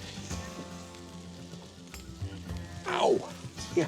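Hot onions dropped onto a griddle sizzle and crackle softly, rising to a louder hiss near the end, with faint background clatter.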